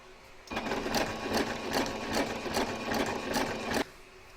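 A sewing machine runs in one continuous burst of rapid rhythmic stitching as it sews the binding seam on a quilted table runner, close and steady, with no talking.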